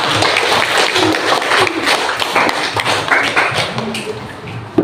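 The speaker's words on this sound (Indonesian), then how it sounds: "Jadi tepuk tangan dong untuk Lukman." A classroom of students claps for a classmate during a lesson, a busy patter of hand claps and taps that runs close and fairly loud for a few seconds.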